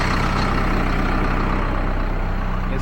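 A big 2019 truck engine idles with a deep, steady rumble, close and even throughout without breaks or revving.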